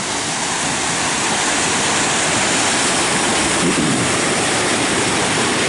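A river rushes and churns steadily near where it flows into Lake Superior, a loud continuous close wash of water with no voices over it.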